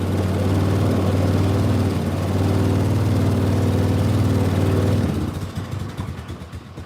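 Trail Rider 570 RC model of a 1941 Willys with a canvas top, its small engine idling low with a steady buzzing drone that roughens and falters near the end, close and loud.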